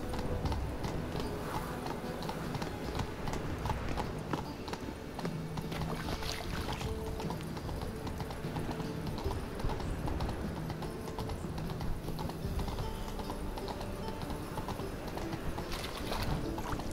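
Roach, Geralt's horse in The Witcher 3, clops along with steady, fairly close hoofbeats throughout, set against a busy ambient game background.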